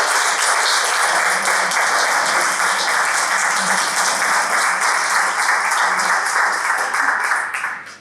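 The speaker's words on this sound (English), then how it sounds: "we all need to give him a huge round of applause" Sustained applause from an audience at a Toastmasters club meeting, dense steady clapping that carries evenly for about seven seconds before tapering off quickly at the end.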